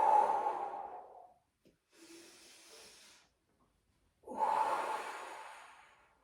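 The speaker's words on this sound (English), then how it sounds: "Big exhale on the way up." A close, heavy, forceful exhale during a lifting rep, then a quieter breath, then another long heavy exhale, each tailing off gradually.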